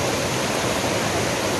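Kothapalli waterfalls roar in a dense, steady wash of rushing water, loud and close, with no pauses or other sounds.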